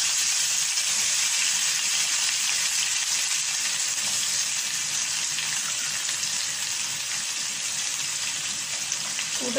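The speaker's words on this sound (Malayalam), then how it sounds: "കൂട്ടത്തിൽ തന്നെ വെളുത്തുള്ളിയും ഇഞ്ചിയും കൂടി ഇട്ട് കൊടുക്കുകയാണ് നമുക്കിതൊന്ന് നന്നായിട്ട് വഴറ്റിയെടുക്കാം" Onion, garlic and ginger sauté in hot oil for a Kerala fish curry, giving a loud, steady, close sizzle that runs unbroken throughout with no voices.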